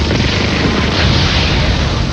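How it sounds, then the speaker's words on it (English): A ship blows up in a cartoon, a loud sustained roaring explosion that fills the whole moment with no pause, heard alone without speech. "but the ship blew up with Miguel on it."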